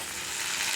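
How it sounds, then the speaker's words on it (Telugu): Dried red chillies fry in a pan with a steady, close hiss of sizzling oil, brief and continuous with no talk. "ముందుగా అయితే మనం ఎండుమిర్చి వేయించుకోవాలండి"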